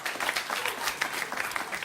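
Brief burst of studio audience applause on a late-night talk show, moderate clapping from the crowd filling the short stretch at a steady level.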